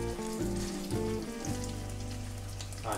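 Steady crackling and sizzling hiss fills the clip, like fish batter frying in hot oil in a pan, with a faint hum underneath.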